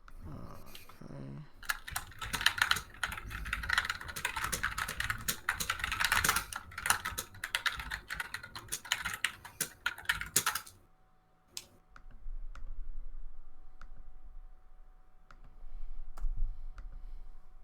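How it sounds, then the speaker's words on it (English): Fast, loud typing on a computer keyboard right beside the microphone, a dense clatter of keystrokes for about ten seconds before it stops, leaving only a few scattered clicks. "I do have my mic near my keyboard."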